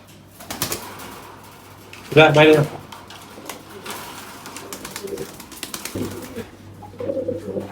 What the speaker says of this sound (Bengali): সব কবুতরই বাইরে চলে গেছে এখন আস্তে ধীরে সব গোসল দিক